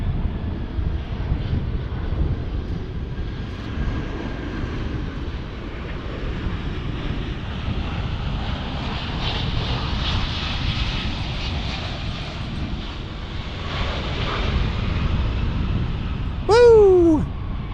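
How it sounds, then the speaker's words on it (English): An MD-11 airliner lands on runway 18 at DFW, a broad distant jet roar that swells gradually under wind noise, with a brief whistle-like chirp near the end. "and here comes the MD-11."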